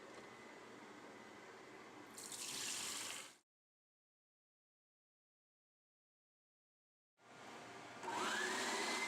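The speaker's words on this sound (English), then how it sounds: "you pop off the top of the tank and pour out the dirty water" Dirty water pours out of the removed tank of a Hoover SteamVac All Terrain Max Extract carpet cleaner (F7452900) in a steady rushing stream. It stops for several seconds of silence, then a second pour begins.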